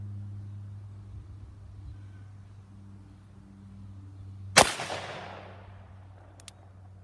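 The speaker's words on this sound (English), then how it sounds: "we'll do one more go around with the Ruger" A single sharp gunshot from a Ruger firearm cracks loudly at an outdoor shooting session and leaves a decaying echo, with a low steady hum beneath and a faint click afterward.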